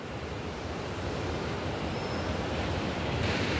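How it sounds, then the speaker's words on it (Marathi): Sea waves wash onto the shore in a continuous, fairly loud surf roar with some wind noise, steady throughout and heard without any voices. "समुद्राचा आवाज"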